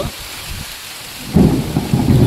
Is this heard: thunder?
yes